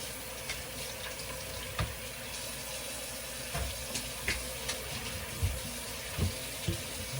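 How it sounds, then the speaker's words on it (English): A kitchen tap runs steadily while a knife is washed under it, a constant close hiss of water with occasional clinks and splashes from the blade and sink. "Wash this knife."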